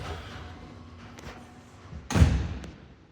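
An apartment door swings shut with a single solid slam and thud, fairly close, after a short stretch of quiet room tone.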